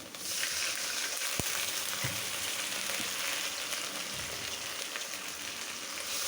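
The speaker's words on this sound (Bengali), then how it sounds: "এর আগে একটু পানি দিয়ে দিচ্ছি" Water splashed into onions frying in oil for a rita fish curry sets off a sharp hiss that settles into steady bubbling sizzle with a few clinks of a utensil, close and without speech.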